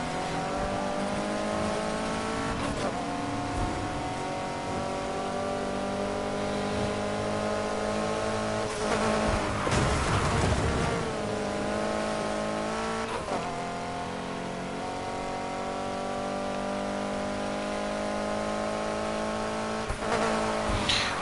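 A BMW races in Need for Speed Heat, its engine roaring and revving continuously at high pitch with gear shifts and brief tire squeals, loud and alone without talk throughout.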